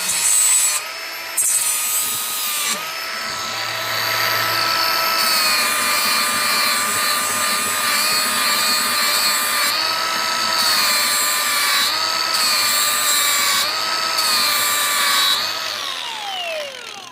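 Grinder sharpening a Lazer Z mower blade, a loud sustained whining grind with steady high ringing tones, broken by several short pauses and a falling spin-down at the end, without talk.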